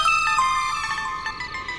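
Mobile phone ringtone, a bright electronic melodic tone with repeating notes sounding alone and fairly close for under two seconds.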